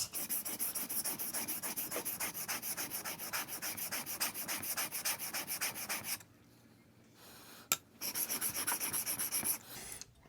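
A steel blade rasps back and forth across a sharpening stone in quick, regular strokes, close and fairly loud. There is a short pause with one sharp tap, then the strokes resume.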